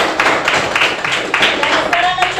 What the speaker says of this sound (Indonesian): saya kira sudah dikasih tepuk tangan untuk semua